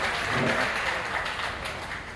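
Distant, steady applause from a crowd watching a colt starting session, a soft continuous wash of clapping that stays fairly even and faint throughout.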